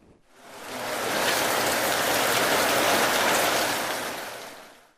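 Steady rainfall hisses loudly throughout, fading in at the start and tapering off at the end, with no voices.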